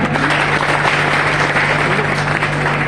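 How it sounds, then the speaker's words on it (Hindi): Audience applause at a felicitation ceremony for topper students, a dense, steady wash of many hands clapping that holds at an even level for the whole stretch, with a constant low hum running underneath. "आप अपने लिए, मेरे लिए और नौशेर भाई के लिए जोरदार ताली बजा दें"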